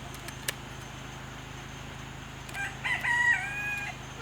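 Chickens in a backyard coop setting, with a rooster crowing once loudly near the end after a short cluck, over a quiet steady background hum.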